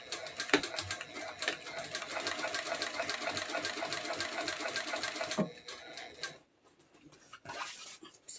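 A sewing machine stitches the bottom panel onto a rucksack, its fast steady clatter running for several seconds before stopping, followed by quieter handling noises and a brief stitching burst.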